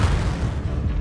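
A Confringo fire spell explosion in Hogwarts Legacy on PS5 Pro, a single loud, close, roaring blast that fills the whole moment and fades slowly, with no talk over it.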